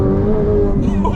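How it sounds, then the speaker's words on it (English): A Ferrari F8 Tributo's twin-turbocharged V8 roars steadily at high revs, a strained, high-pitched wail held close up for a brief moment. "it's got this higher pitched wail at higher RPMs that you're not expecting in a twin turbocharged V8 car"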